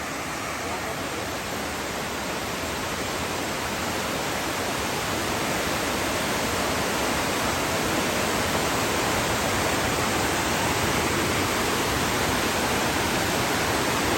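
Water falling from a great height in a natural waterfall, a steady, dense roar close by that stays constant throughout with no break.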